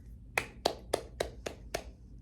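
Six sharp hand claps land in a steady, moderately quick rhythm, close and crisp against a quiet background.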